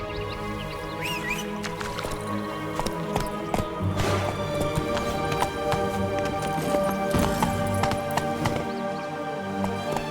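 The horse Roach gallops in The Witcher 3, a steady run of clip-clop hoofbeats carried under layered orchestral game music, close and continuous throughout.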